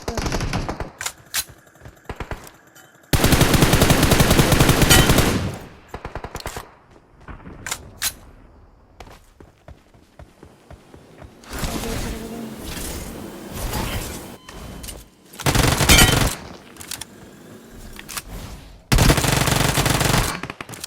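Loud bursts of automatic gunfire from the PUBG Mobile video game rattle in long sustained volleys, separated by quieter gaps with scattered single shots and mechanical clicks.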